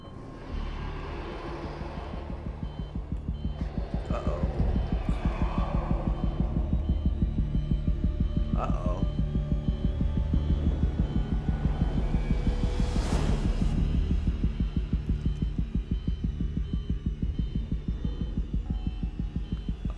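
A steady, rapid heartbeat throbs through the tense ambience of the video game Alien Isolation. Dense, regular low pulses run for the whole stretch over a droning hum, joined by occasional faint metallic creaks.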